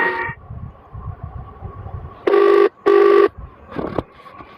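Phone ringing on an outgoing call, two loud electronic ring bursts about half a second apart in close succession, preceded by faint murmuring voices and followed by a shorter tone.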